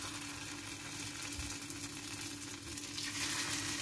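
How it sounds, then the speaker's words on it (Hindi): Churro dough pieces frying one by one in hot oil, a soft, steady sizzle with gentle bubbling at a low, even level and no voices. "इसको हम फ्राई कर लेंगे। चलो इसको हम डाल लेते हैं एक एक करके।"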